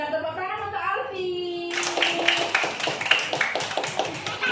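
Hand claps from a teacher and a child in a classroom session, following sung speech; several sharp taps ring out over the last three seconds alongside voices.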